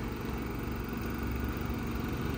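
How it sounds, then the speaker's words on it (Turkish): A generator runs steadily to power a caravan at a campsite in Ghent, Belgium, giving a constant low engine drone with an even, unbroken hum throughout. "Şu anda duyduğunuz ses jeneratörün sesi."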